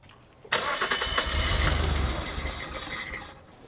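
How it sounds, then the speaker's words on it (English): A Nissan R34 Skyline engine cranks and catches, then runs loud and steady for a few seconds before easing off slightly near the end, with the throttle position sensor unplugged. "As soon as we unplugged the throttle position sensor, the car started idling good."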